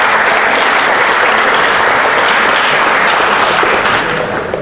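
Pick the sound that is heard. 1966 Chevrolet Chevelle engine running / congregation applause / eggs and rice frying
congregation applause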